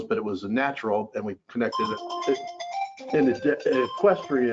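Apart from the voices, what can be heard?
phone ringing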